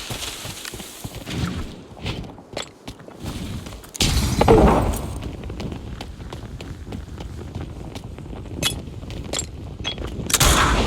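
Grenade explosions and gunfire in the shooter game Arena Breakout, with scattered footsteps and sharp shots, then a heavy boom and a longer burst of combat noise.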